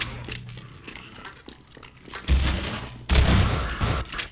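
Bursts of rapid gunfire and booming impacts in the video game Half-Life 2, loud and chaotic, with crackling effects that grow heavier toward the end.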